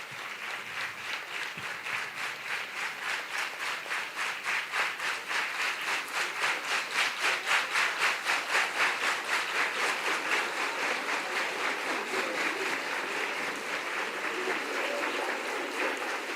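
Audience applause at the Assam heritage event Dharohar 2025 settles into sustained rhythmic clapping, the crowd largely clapping in unison with a steady, pulsing beat that continues at an even level.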